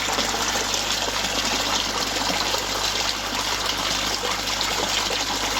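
Water running through the pump and siphon of a raised aquaponics grow bed, heard as a steady, dense splashing trickle that continues close and unbroken throughout.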